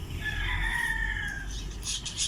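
Heritage chickens on a range, a rooster crowing loudly and close over steady clucking from the flock.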